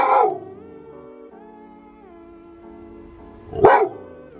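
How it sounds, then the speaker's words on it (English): A young female puppy barks loudly and close by at the start, followed by a long quiet stretch and then another sharp, loud bark near the end. "Like her bark is so loud for a puppy."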